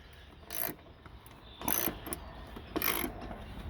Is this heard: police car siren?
no